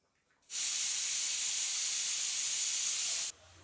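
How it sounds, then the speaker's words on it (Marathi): A pressure cooker cooking masala khichdi lets out one long, loud whistle of escaping steam, a steady high hiss that starts abruptly and cuts off after about three seconds. "इथे कुकरच्या दोन शिट्ट्या झालेल्या आहेत"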